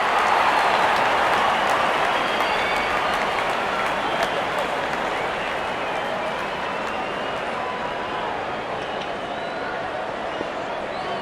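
Stadium crowd in a cricket video game applauding and cheering, a steady loud wash of clapping that slowly fades, with a commentator's voice faintly underneath.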